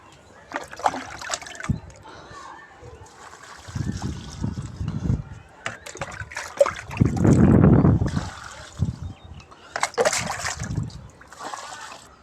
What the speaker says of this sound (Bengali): এবার আমি খালি গাছে জল দিয়ে দেবো